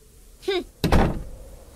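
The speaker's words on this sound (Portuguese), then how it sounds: "disse a formiga e fechou a porta" A wooden door shuts with a single solid thud and a short reverberant rattle, heard close after a brief, rising vocal sound in a quiet room.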